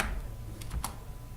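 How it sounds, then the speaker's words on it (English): A few quick keystrokes tapped on a computer keyboard, faint and close, typing a command into the Windows Run box over a low steady hum. "press Window R from your keyboard and type"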